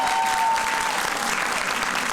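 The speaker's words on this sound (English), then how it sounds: "All right, one more round of applause before we start this off." An audience at the Central Florida Spelling Bee 2019 bursts into loud, dense applause, a steady wash of clapping that fills the whole moment with no speech over it.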